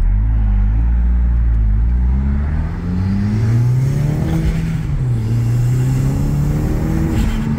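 A MK1 Audi TT Quattro with a 1.8T engine and a 70mm throttle body accelerates hard, its engine note rising steadily and droning loudly from inside the car, with no talk.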